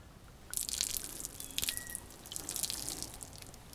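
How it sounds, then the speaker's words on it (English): Wine splashes and trickles onto an unprotected teak wood surface in a soft pour lasting a few seconds, with small drips, fairly quiet and close. "let's dump some wine in the same area"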